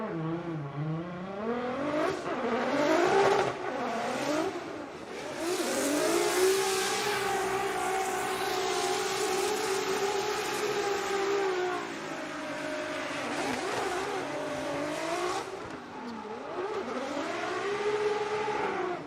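A drift car engine on a sight lap at Formula Drift Orlando 2022, Pro Round 3 knockout qualifying, revs loudly and continuously, rising and falling in long sweeping pulls for about nineteen seconds.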